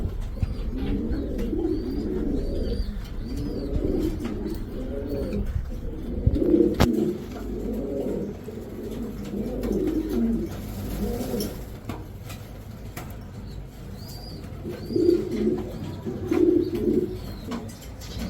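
Racer pigeons coo in a loft, several birds making repeated low rolling coos in overlapping bursts, close and fairly loud over a hum of background noise, with faint chirps and no talk.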